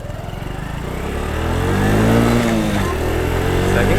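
A 2013 Honda Super Cub 110cc motorcycle engine revs up steadily, rising in pitch and loudness, then drops briefly as a gear shifts and climbs again, close and continuous throughout.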